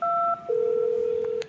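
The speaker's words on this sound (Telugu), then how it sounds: "ఈ బస్సు ఎక్కడ ఉన్నాడో ఫోన్ చేద్దాం." Phone call tones from a mobile dialing a bus driver: a dual-pitch tone that switches to a long steady single tone, ending with a short click, clear and close.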